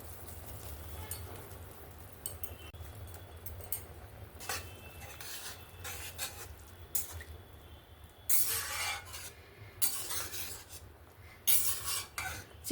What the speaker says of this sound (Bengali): চিকেনগুলো দিয়েও সুন্দরভাবে নাড়াচাড়া করে নিলাম।